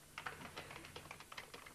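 Quiet typing on a keyboard, a rapid run of light irregular key clicks close by, with no voices.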